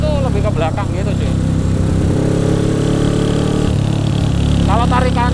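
A Honda CB 350 cafe racer motorcycle with a 50-year-old engine runs with a steady mechanical drone that briefly swells, while someone talks over it.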